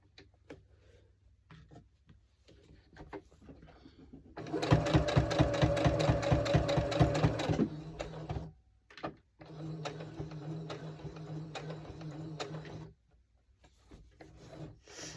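Home sewing machine stitching fabric coasters, a loud, fast rhythmic needle clatter for a few seconds, then a brief pause and a steadier, softer run of stitching in reverse before stopping.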